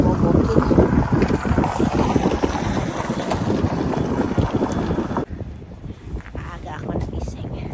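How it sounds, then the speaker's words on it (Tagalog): Strong cold wind buffets a microphone outdoors in Zurich, a loud gusty roar and rumble that drops off abruptly near the end, with a person talking over it. "Ang lakas ng hangin pala, malamig, maikot."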